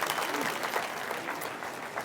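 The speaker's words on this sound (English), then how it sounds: "big round of applause for my volunteers" Sustained audience applause for volunteers fills the room at an even, steady density from start to finish, many hands clapping together at moderate volume with no talk over it.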